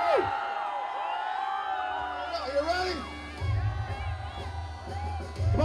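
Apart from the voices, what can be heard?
crowd cheering at promotional event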